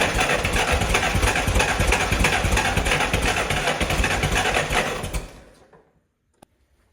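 Propane forklift engine running after a points gap adjustment in a chilly shop, a loud, close, rough, rapidly chugging idle that runs steadily for about five seconds and then cuts off into near silence, ending with one small click.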